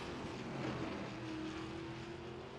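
A big V8 race car engine from a TA2 series race at Road America drones steadily and loudly, a continuous thumping roar that holds its pitch throughout with no talking.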